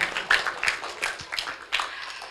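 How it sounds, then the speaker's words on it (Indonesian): Children and adults clap for young pupils after their Quran recitation test at an Islamic elementary school, a short scattered burst of hand claps with a few sharper claps standing out. "Tepuk tangan untuk Ananda yang solih dan solihah"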